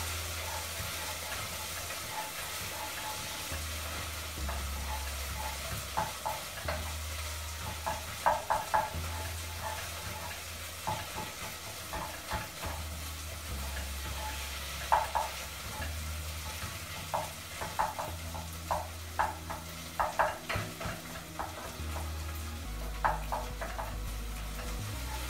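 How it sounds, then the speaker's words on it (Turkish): Boiled meat sautéing with tomato paste and onion in a pan, a soft steady sizzle over a low hum, punctuated by repeated scraping and clacking stirs that grow busier partway through, no voices. "Haşlanmış etimi de salça ve soğanın içine katıyorum. Ve bunu da kavuruyorum birazcık."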